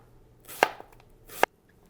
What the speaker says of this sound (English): Now I'm just going to slice them into thin